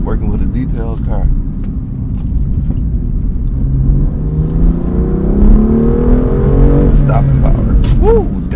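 BMW M2 CS engine accelerating, a loud, throaty rising drone heard from inside the car as revs climb steadily through the gears, with people talking over it.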